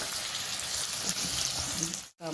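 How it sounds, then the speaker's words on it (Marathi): Onion fries in hot oil for kanda poha, a steady close sizzle and crackle that cuts off abruptly at the end. "आता टाकला कांदा आणि आता मस्त असं मस्त तळून घेते"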